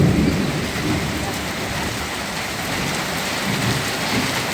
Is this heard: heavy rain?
yes